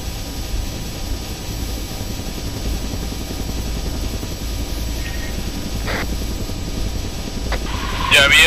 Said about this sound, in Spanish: Ya vi el helicóptero.